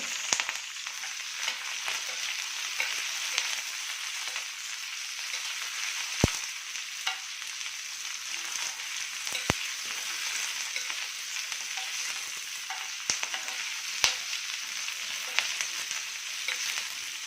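Green chillies and garlic fry in a pan over a low gas flame, giving a steady, quiet sizzle that runs throughout. A few faint clicks from stirring break through now and then, with no talking.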